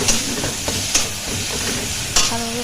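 Cashew paste thinned with turmeric water is stir-fried in a pan, giving a steady close sizzle with scraping spoon strokes and a few sharper clicks against the pan, no voices.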